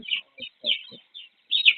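Small chicken chicks on a farm peep in short, high-pitched bursts, several quick chirps in an uneven rhythm, close by with soft low clucks between them.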